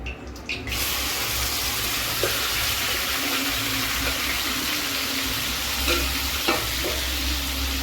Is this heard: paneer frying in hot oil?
yes